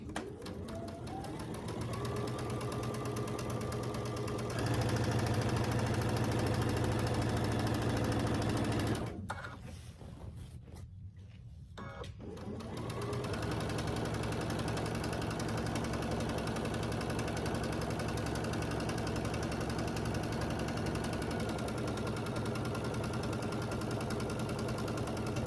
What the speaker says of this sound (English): I'm going to sew this row at a 1/4 inch